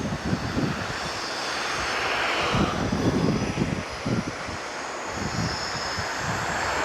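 A train passes loudly through Rotterdam, its broad rumbling roar filling the scene steadily for several seconds with no voices over it.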